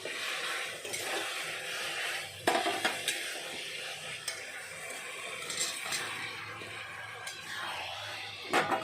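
Chicken pieces are added to a hot pan for chilli chicken, with a faint sizzle, metal clinks and spoon scrapes against the pan, and a few sharp knocks standing out.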